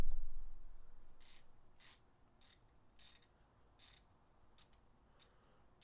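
A Koken Z-EAL 3/8-inch drive 72-tooth ratchet handle is worked back and forth, giving about seven short bursts of fine, crisp clicking separated by brief pauses, close and fairly quiet.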